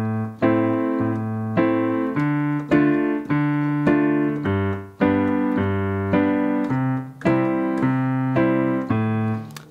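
Piano accompaniment for a song played with both hands, left-hand chords under a right-hand part in a steady four-beat pulse, clear and close with no voice.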